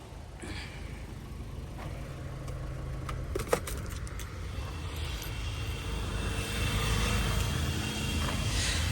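A 2019 Ford EcoSport Titanium diesel idles with a steady, low, even rumble, joined by a couple of brief light clicks midway and a slightly fuller drone toward the end.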